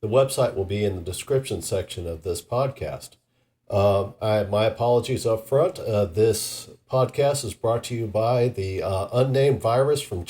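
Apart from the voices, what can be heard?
No everyday noise stands out behind the speech.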